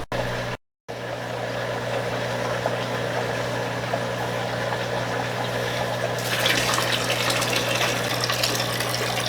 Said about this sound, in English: let's start putting some warm water in the Tupperware that has the Parachromis Dovi pair.